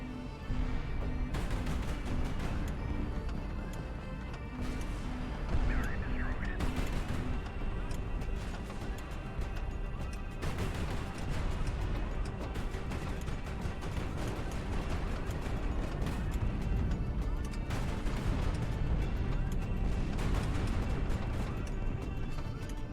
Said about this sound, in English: I'm just getting shredded by missiles